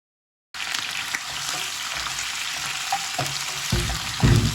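Squid hits hot oil in a wok over high heat and sizzles steadily and loudly, with a few stirring scrapes and clacks toward the end.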